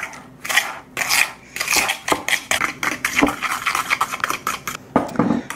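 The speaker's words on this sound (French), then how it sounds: "On va les mélanger un peu avec nos œufs." Two cups of sugar are mixed into four eggs in a bowl with a utensil. Steady, close scraping and sloshing strokes repeat rapidly against the bowl, with no voices.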